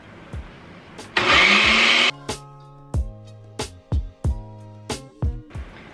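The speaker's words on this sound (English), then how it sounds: "plug your blender in, and now we make banana ice cream" A blender whirs in one loud, roughly one-second burst while blending banana ice cream, then falls silent as a string of plucked musical notes takes over.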